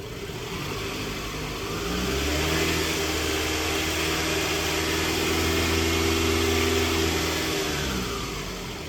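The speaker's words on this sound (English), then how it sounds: "we're gonna see what happens when they give the car a few revs" A car engine idles and then revs up, holding a higher droning pitch for several seconds before dropping back down to idle.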